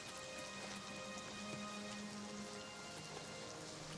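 Steady rain falls in a video game, a faint, continuous hiss of drops with a few low tonal hums beneath and no voices.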